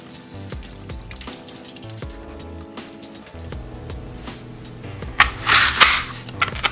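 Tap water running while apples are washed, a continuous splashing stream under faint background music that grows louder and more splashy toward the end.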